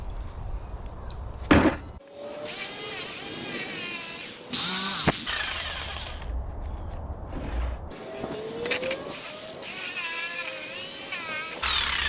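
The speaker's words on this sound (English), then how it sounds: "I'll just lop off that little piece there with a jigsaw." A jigsaw cuts through a piece of wood for a roof truss in a workshop, with several bursts of rapid buzzing separated by short pauses and a few knocks, close and loud.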